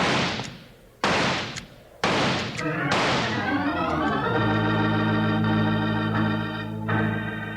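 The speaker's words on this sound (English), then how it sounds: "I'm shooting down the first Moon Mountain man right now." Gunshot sound effects from a 1951 Western radio drama: four sharp, loud reports spaced about a second apart, then a sustained swelling orchestral music sting rings out alone.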